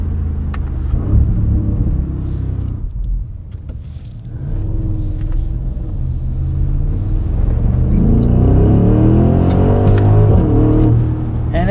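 A 2024 Audi SQ7 with 500 horsepower and quattro all-wheel drive moving through snow, heard from inside as a loud, steady low rumble of engine and road noise that swells as it accelerates.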